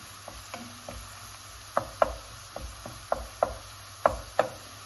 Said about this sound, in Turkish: Bakın gördüğünüz gibi salça da kavruluyor.